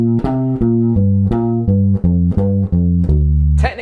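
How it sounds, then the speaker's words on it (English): Guitar runs pentatonic lines in triplet groupings of three, about a dozen quick even notes picked at a steady pulse, loud and close, ending on a sustained note with a brief scrape. "put the triplet pentatonic formula to it. So let's break it into groupings of 3"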